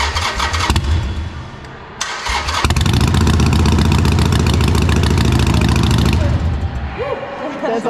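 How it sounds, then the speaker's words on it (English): A Harley-Davidson motorcycle engine cranks and fires up, then settles into a loud, rumbling idle close by. "That's the Harley Rumble that you're looking for."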